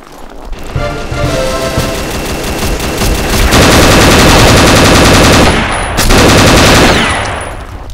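Dense gunfire in the online shooter Combat Arms, with sniper shots among loud, continuous rapid bursts that swell and stay heavy for most of the stretch, briefly dipping before resuming.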